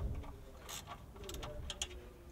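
Short ratcheting clicks come from a ratchet wrench tightening the clutch pressure plate bolts on a Ferrari, sounding as a few quick close bursts of clicking in a quiet workshop.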